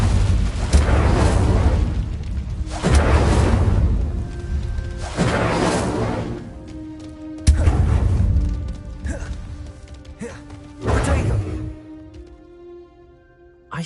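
Repeated fiery spell blasts from Incendio in Hogwarts Legacy, roughly five loud whooshing bursts spaced a couple of seconds apart, each swelling and fading with a crackling tail.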